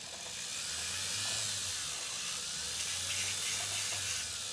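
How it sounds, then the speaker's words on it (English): An electric nail file drill with a drill bit, used for solar nails, whines steadily with a thin high buzz and a low motor hum, close and continuous throughout without voices. "I love my drill bit."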